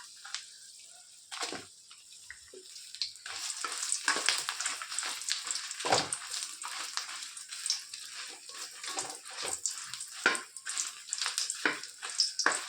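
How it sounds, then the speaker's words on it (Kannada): Chilies frying in coconut oil in a pan for Mangalore-style chicken sukka, a soft, crackly sizzle with irregular spits and pops that grows busier after the first few seconds, close and fairly quiet, no voices. "ನಾವು ಈಗ ತೆಂಗಿನ ಎಣ್ಣೆ ಹಾಕ್ತೀನಿ. ಇದಕ್ಕೆ ಮೊದಲು ಮೆಣಸನ್ನು ಹಾಕೋಣ."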